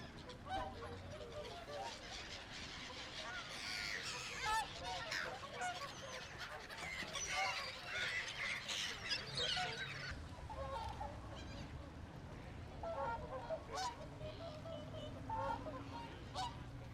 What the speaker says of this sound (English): such as these whooper swans who delight visitors with their trumpeting calls